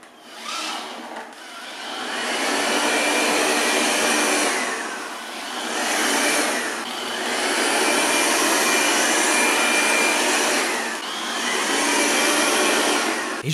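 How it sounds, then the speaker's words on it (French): A Proscenic X1 robot vacuum-mop runs its suction test, producing a loud, steady whirring drone that swells and eases in slow waves as it moves around, with no one talking. "On va voir un petit peu un test d'aspiration, voir s'il y a une grande aspiration."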